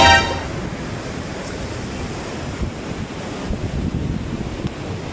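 Sea waves washing ashore with strong wind buffeting the microphone, a continuous rough roar of surf near and loud, with no talking.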